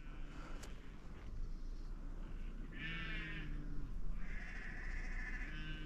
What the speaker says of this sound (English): Oh my God, there's so many sheep.